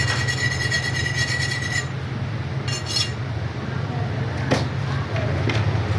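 A hand file rasps against thick forklift tire rubber in a steady scraping rhythm, close and moderately loud, with a faint metallic clink early on and someone talking over it.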